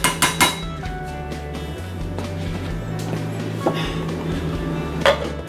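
A metal lid clinks onto a pot of yellow Spanish rice with shrimps, turkey sausages and mixed vegetables, giving a few sharp clatters at the start and again near the end over a low kitchen hum.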